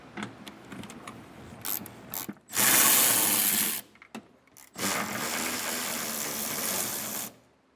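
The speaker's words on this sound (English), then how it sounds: "for those, we're going to be needing a 10mm socket and obviously an extension to get up there" A ratchet wrench with a 10mm socket on an extension works loose the bolts of an EcoHitch Class II hidden trailer hitch on a 2025 Mazda, in close bursts of clicking ratcheting broken by short pauses.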